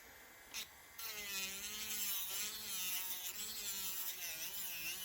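An electric nail file drill with a safety bit, run at low speed, files down a fiber gel nail as a faint, steady motorized whir with a brief click and start before the motor settles into a wavering hum.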